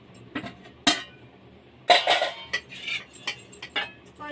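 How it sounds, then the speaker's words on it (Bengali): Hot rice being served onto plates, heard as a sequence of close metallic clinks and scrapes of a spoon against plates and a pot, irregular and fairly sharp. "সবার জন্য ভাত বেড়ে নিচ্ছি"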